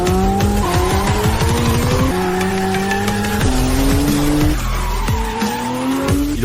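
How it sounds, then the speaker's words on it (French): An old car drifts and skids on ice, tyres squealing in long sliding whines over a loud, steady racing engine whose pitch rises and drops with each slide, continuous and close throughout. "il fait du drift sur la glace"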